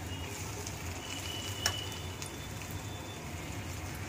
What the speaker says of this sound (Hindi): मैं ऑयल में फ्राई कर रही हूँ इसको।